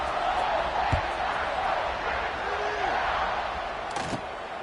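A stadium crowd roars steadily at a college football kickoff in a video game, a dense, broad wash of cheering that holds level throughout, with a couple of faint thumps.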